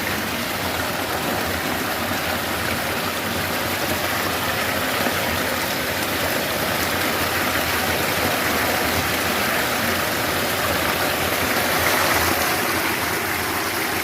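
Borewell water gushes steadily on a farm, a continuous loud rushing and splashing close by that holds even throughout, with no voices.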